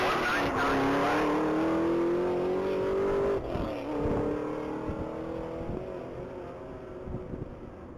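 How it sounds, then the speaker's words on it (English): White 2015 Camaro at a top-speed mile racing event, its engine roaring loud and near while revving up in pitch, then fading and shifting as it passes; a voice is faintly present underneath. "That's going to be a white 2015 Camaro."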